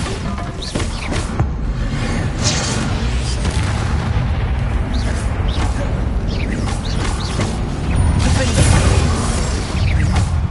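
A Bombarda explosion spell cast in the game Hogwarts Legacy sets off a dense, roaring burst of booms and rumbling debris, loud and sustained throughout, with a swell of blasts near the end.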